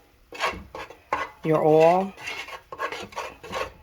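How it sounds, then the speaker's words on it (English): A spoon stirs flour roux into cooking oil in a pan, making repeated close scraping and rubbing strokes in an uneven rhythm, with one longer squeaky, tonal scrape partway through. "You want to blend it in to the grease, to the cooking oil."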